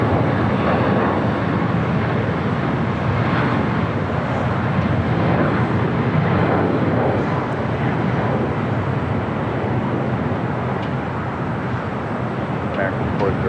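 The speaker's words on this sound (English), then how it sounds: "American Airlines Flight 2143 heading to Miami at 737 MAX 8, taking off 25 right." An American Airlines Boeing 737 MAX 8 takes off from a runway at LAX, its jet roar a loud, steady broadband rumble lasting throughout, with a voice talking over it.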